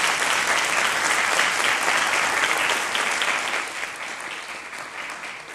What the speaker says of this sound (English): I just really want to give a round of applause for Lisa,